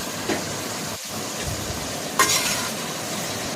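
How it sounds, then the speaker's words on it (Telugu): Mutton with spices, ginger and mint leaves cooks in a pan for biryani, with a continuous close sizzle broken by stirring scrapes and a brief clink of a utensil against the pan. "తర్వాత మొత్తం మిక్స్ చేయాలి"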